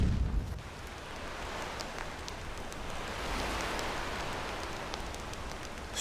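Rain falls on a sandy beach in the game Enderal as a steady, dense hiss with scattered drop ticks, constant and fairly soft throughout, after a short low rumble at the start.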